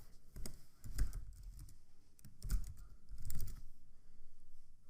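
Someone types code for HTML buttons and divs on a computer keyboard, producing faint, close clusters of soft clicking keystrokes in short bursts separated by pauses.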